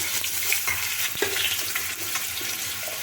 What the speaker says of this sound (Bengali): ডেকচিতে কেটে রাখা আলুগুলো আমি দিয়ে দেবো আলুগুলো ধোয়া আছে আলুগুলো এক একে দিয়ে দিচ্ছি